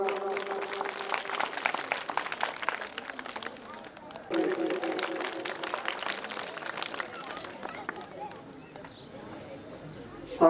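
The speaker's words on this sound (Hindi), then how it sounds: "तालियां जोरदार।" Steady, dense clapping from a crowd at a school award ceremony, carrying on for several seconds with a slight lift midway before thinning near the end.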